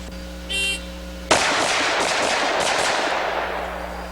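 Rapid heavy gunfire from a .460 revolver shot at targets at a shooting range erupts after a short pause as a fast string of loud, echoing blasts rolling together over a few seconds.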